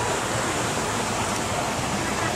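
A river flows near hot springs, heard as a loud, steady broadband rush of water that fills the whole moment without a break.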